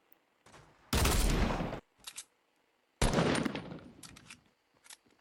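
Gunfire in the Fortnite video game comes as two loud sustained bursts of rapid shots, each about a second long. A few short, quieter shots fall between and after them.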